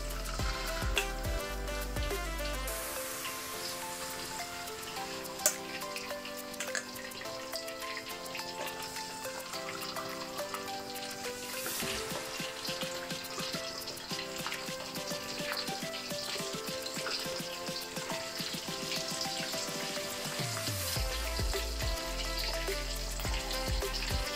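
Sea bream frying in hot oil, a loud, steady, dense crackling sizzle that runs on without a break.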